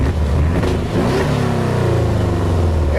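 A 2017 Porsche 718 Cayman S with the optional sport exhaust revs up with a quick rising blip, then settles into a loud, rumbling idle close by.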